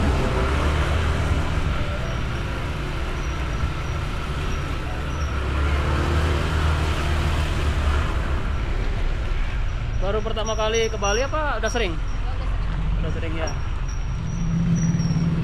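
Busy street traffic in Bali, a continuous rumble of cars and motorbikes underneath, with people chatting close by over the noise for most of the time.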